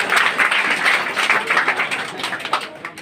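Audience applause at a coaching centre award ceremony welcoming Bihar board class 10 and 12 students, a loud crowd clapping with uneven surges and a slight fade toward the end.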